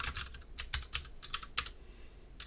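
Quick bursts of clicking keystrokes on a computer keyboard come in short irregular clusters with brief pauses, close and fairly quiet, with no voices.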